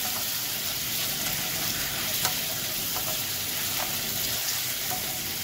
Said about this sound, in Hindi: और उसे सौते करेंगे। अब इसमें डालेंगे 1 medium size प्याज